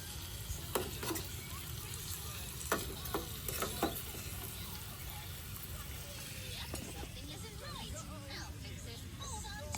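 Spam frying in a pan gives off a steady sizzle with small bubbling pops. A few clicks and scrapes come through, and faint voices can be heard in the background.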